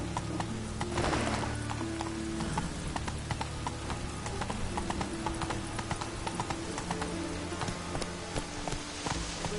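Roach gallops in The Witcher 3 with a dense, rapid, continuous drumming of hooves, loud and close throughout, over a low ambient game backdrop.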